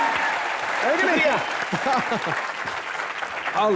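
A studio audience at a comedy show applauds, a steady patter of clapping throughout with raised voices and tonal calls rising over it at moments.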